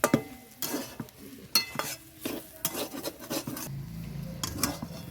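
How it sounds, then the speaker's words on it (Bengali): A spiced cauliflower and potato filling is stirred in a pan with quick, irregular scrapes and clatters of a spatula against metal over a faint sizzle, close by and with no talking. "বন্ধুরা দেখুন সব মশলাগুলো দিয়ে আমি এটাকে ভালো করে নেড়ে চেড়ে নেবো"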